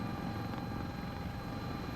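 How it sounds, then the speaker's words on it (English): An S-76 helicopter in Microsoft Flight Simulator 2024 drones steadily with an even rotor and turbine roar, constant and fairly quiet, with no voices. "I'm just going to let the helicopter do its thing"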